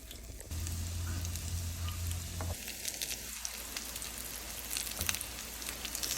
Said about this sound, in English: in a little oil, I'm going to fry them on medium to low heat